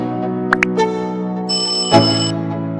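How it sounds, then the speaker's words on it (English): A bright notification bell chime rings out twice in quick succession, followed by a higher sustained ding, layered over a steady musical background with no talking. "Turn on your post notification bell for new videos to come."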